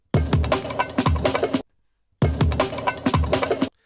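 A sampled drum break pitched up, sounding quicker, brighter and more jungle-like, plays twice in a row with a short gap between the loud passes.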